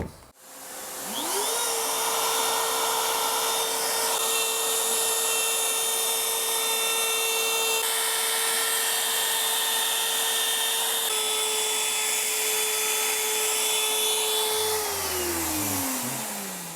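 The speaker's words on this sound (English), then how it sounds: "That Unico spiral cut router bit is something else" A power router with a spiral cut bit whines at a steady high pitch while cutting wood for an electric guitar body, with a vacuum roaring alongside, continuous and loud before winding down at the end.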